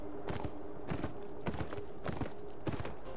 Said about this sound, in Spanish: Un paseíto a caballo, ¿cómo no?